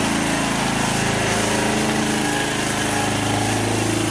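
A Suzuki quad's engine idles with the choke on, a steady, loud, even mechanical drone with a low rumbling pulse running throughout, no voices over it.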